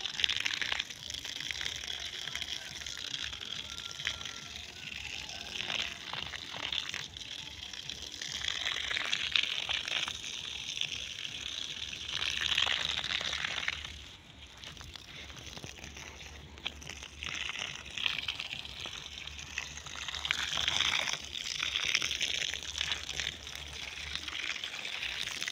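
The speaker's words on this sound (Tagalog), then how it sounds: "basugin natin sila sa tubig" Garden plants being watered with water: a steady, close hiss of spraying and pouring that runs almost unbroken, with a brief dip midway.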